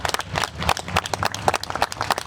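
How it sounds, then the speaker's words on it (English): A crowd at a rally on the Denver Capitol claps for the sisters, brisk uneven handclaps at close range with a lively, choppy rhythm. "I got to give our sisters a hand clap."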